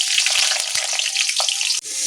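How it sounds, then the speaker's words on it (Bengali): Potatoes fry in oil for a Bengali mustard cabbage dish, a close, continuous bright crackling sizzle with small pops, broken briefly near the end. "আমি আলুগুলো ভেজে নেব।"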